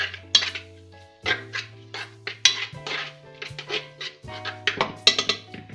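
A spoon stirs ground ginger, cumin and other spices in a metal cooking pot, with irregular clinks and scrapes against the pot's sides close by, and no voices.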